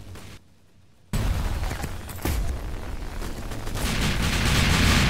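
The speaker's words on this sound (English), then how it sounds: "A shotgun." Shotgun blasts in a Roblox WWII battle game, a sharp report after a brief hush, then dense overlapping gunfire building steadily louder with no talk.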